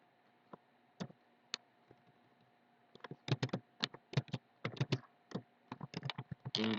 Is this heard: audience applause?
no